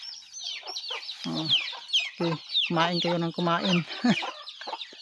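Chickens clucking busily while feeding at a farmyard, a dense run of close, loud clucks and squawks with a person talking briefly among them.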